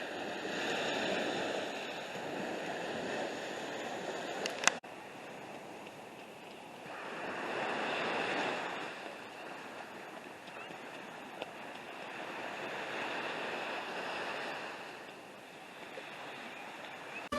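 Ocean surf rolls onto a beach in broad washes that swell and recede every few seconds, a steady hiss of breaking water with a brief sharp knock partway through, no voices over it.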